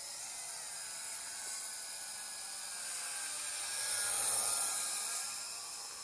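An X6 Tarentula drone, an older first-version model, flies nearby with a steady high rotor whine and hiss that swells briefly louder toward the end, with no talking.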